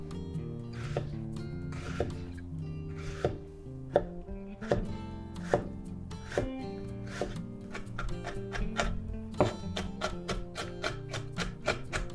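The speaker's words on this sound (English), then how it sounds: "It's important to thinly chopped onion" A knife chops an onion thinly on a cutting board, a run of crisp, rhythmic taps that quickens toward the end, close and clear with no talking.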